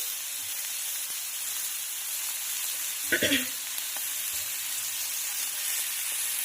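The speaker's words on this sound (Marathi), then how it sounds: "यावर घालणार आहोत आपण आता टोमॅटो म्हणजे छान परतल्या जाईल" Chopped tomatoes sautéing in a pan for anda bhurji give off a steady sizzling fry, with a brief louder burst of spatter midway before the sizzle settles back to an even hiss.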